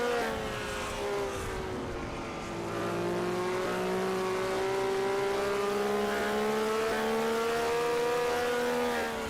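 Onboard sound of a race car engine during the Bud Light 200 at Nashville Fairgrounds, a steady droning whine that holds a sustained pitch, drifting slightly upward as the car runs on with no talk.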